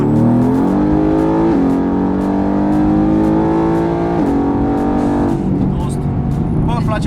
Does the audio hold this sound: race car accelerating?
yes